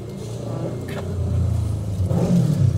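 Car cabin ambience while parked and waiting, a steady low engine rumble with a slight rise toward the end, close and fairly loud with no talk.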